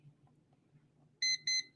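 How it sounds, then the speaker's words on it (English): A timer alert sounds two short, bright electronic beep bursts in quick succession over a faint low background hum, close and clear. "And you can make an alert too, I think. It'll bing or something."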